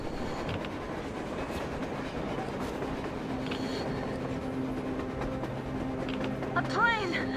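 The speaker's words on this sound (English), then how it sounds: "A train! A damn train on the surface!" A train approaches through a snowstorm in the video game Metro Exodus, making a continuous rolling, rattling rumble under howling wind, with brief metallic squeals rising near the end.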